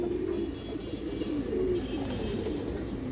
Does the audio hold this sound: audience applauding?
no